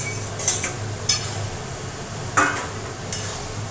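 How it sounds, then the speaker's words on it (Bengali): Chicken is stirred into onion, garlic, ginger paste and spices in a large kadai for methi chicken. A spoon scrapes and clanks against the metal in a few sharp, spaced strokes over a faint sizzle, with no talking. "এবার দিয়ে দেবো হচ্ছে চিকেনটা দিয়ে কষাতে থাকবো।"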